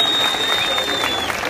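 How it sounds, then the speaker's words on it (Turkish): Audience applause at an olive beauty pageant in Ocaklar, a dense steady wash of clapping lasting the whole moment, with a faint tone running above it. "Gerçekten çok büyük bir alkış."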